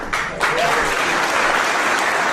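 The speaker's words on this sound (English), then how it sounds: "He elicited a round of applause from the people in that room." A round of applause fills a room after a brief remark at a government hearing, dense steady clapping from a gathered crowd that swells quickly and holds at full strength.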